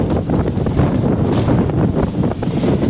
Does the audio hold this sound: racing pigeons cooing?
no